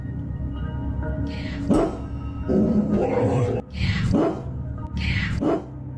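Several dogs bark in loud, repeated bursts, with yips and a whimper mixed in over background commotion.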